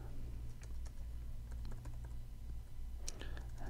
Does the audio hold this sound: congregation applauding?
no